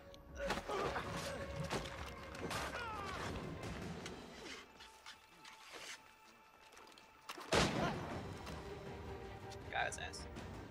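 Gunshots in the video game Assassin's Creed 3, a couple of sharp cracks amid busy in-game ambience and voices, with a loud blast standing out after a brief lull.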